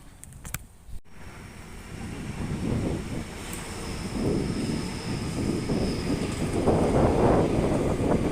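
A train rolls past East Hills station in Sydney, seen from a pedestrian footbridge; a steady, rising rumble builds over several seconds and grows louder toward the end, with no talking.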